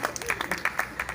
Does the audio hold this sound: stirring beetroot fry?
no